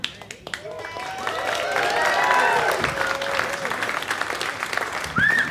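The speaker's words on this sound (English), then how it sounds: "Clapping, wooing, whistling, after three, all the line up." Comedy show audience claps, cheers and whistles for the comedians, a sustained wash of applause with rising and falling whistles on top and a sharp whistle near the end.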